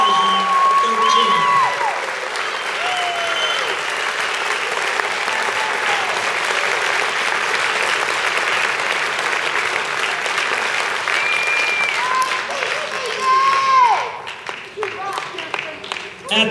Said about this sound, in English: give them a nice round of applause, the graduating class of